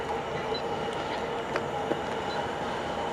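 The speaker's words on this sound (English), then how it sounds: "We've also got a freight passing through" A freight train passing through Water Orton station, a steady rumble of wagons rolling by at moderate distance with faint clicks from the wheels.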